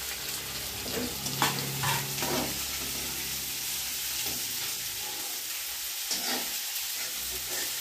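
Cumin seeds, peanuts and chopped spring onion greens sizzle and crackle in hot oil in a pan, a steady close frying hiss with louder bursts and stirring scrapes as the ingredients go in.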